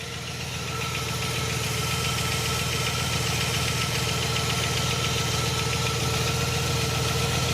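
A 1967 Buick GS340 engine idling after valve stem seal replacement, a steady, loud, close mechanical rumble with a faint rhythmic tick running throughout, with no talk.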